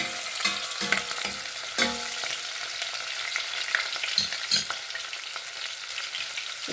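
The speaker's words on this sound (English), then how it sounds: "Now I'll add my oil. Onions. And I'll add my dry chilies and green chilies." Onions with dry and green chilies fry in oil, producing a continuous close sizzle with repeated stirring scrapes and clinks of a spatula against the pan.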